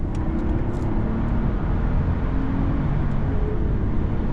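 2006 Mercedes CL600 with its 517 hp engine accelerating hard on the autobahn, a steady loud broadband road and engine roar from inside the cabin, with no talking.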